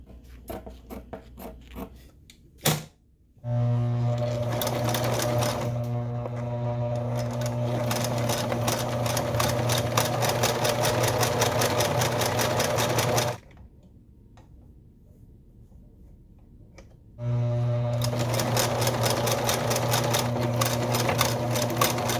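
A home sewing machine stitching a fabric patch during a repair on a Linear Limo recumbent bicycle, a fast buzzing mechanical whir running in long steady bursts, stopping for a few seconds before starting again, close and loud.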